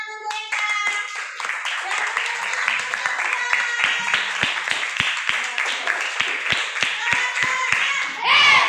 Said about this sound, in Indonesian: Beri tepuk tangan untuk Eka.